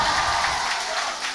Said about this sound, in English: Huge cheer from the crowd here